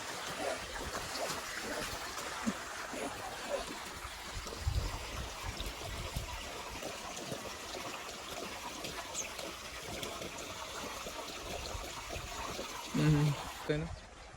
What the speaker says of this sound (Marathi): हो हो चालू चालू पाणी चालू आहे